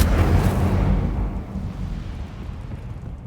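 Incendio fire spell cast in Hogwarts Legacy: a loud, roaring burst of flame that starts at full strength, then settles into a lower, rumbling whoosh fading over about three seconds.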